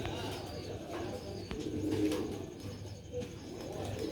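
Sialkoti pigeons cooing close by, soft low rolling coos repeating through the whole stretch with no talk.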